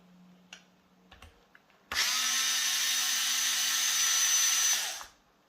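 A power driver spins out bolts from an FTX DR8 RC car center differential, a single loud, steady whirring burst lasting about three seconds after a few light clicks and handling taps.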